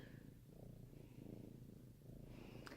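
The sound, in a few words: cat purring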